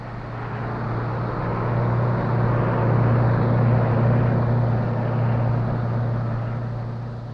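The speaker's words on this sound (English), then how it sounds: "helped by the giant Perkins six-cylinder engine producing 118 horsepower at" A Massey Ferguson 625 combine harvester with a 118-horsepower Perkins six-cylinder engine gives off a loud, steady engine drone with a deep hum, swelling gradually and easing slightly toward the end, with no voices.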